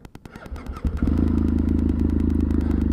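A cold BMW F800 ST motorcycle cranks with a rapid starter whir, then catches and settles into a loud, steady, throbbing idle close by.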